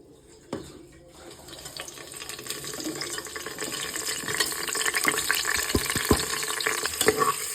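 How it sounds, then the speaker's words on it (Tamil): Three chopped onions dropped into a hot pan and stirred while frying for biryani, a steady soft sizzle that builds gradually, with occasional sharp clinks of a spoon against the pan. "இப்போ நான் வந்து நறுக்கி வைத்த 3 வெங்காயத்தை இதெல்லாம் நம்ம போட்டுக்கலாம்."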